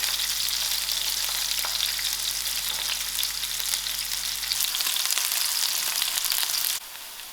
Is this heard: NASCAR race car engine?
no